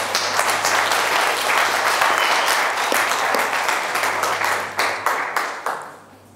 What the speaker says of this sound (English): I think a round of applause for them.